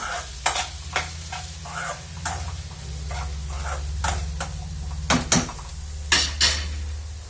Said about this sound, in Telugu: బాగా కలిపేస్తామండి